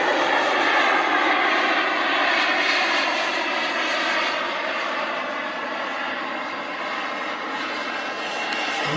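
A radio-controlled model airplane engine drones steadily overhead in flight, a continuous buzzing whine that holds close and loud throughout, easing slightly as the plane is flown slowly.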